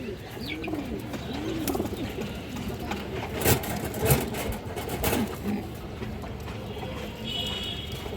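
Pigeons, including a brown-necked female, coo softly nearby in low, repeated rolling calls, with occasional knocks and a faint mechanical hum in the background on a pigeon farm.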